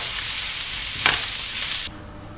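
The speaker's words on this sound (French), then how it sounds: "je vais faire revenir le tout pendant 7 à 8 minutes sur feu moyen en remuant régulièrement." Zucchini and tuna sauté in a pan over medium heat, giving a steady close sizzle with a brief stirring scrape midway, then cutting off abruptly near the end.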